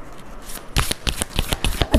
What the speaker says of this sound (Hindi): अच्छे से शफल कर लेते हैं.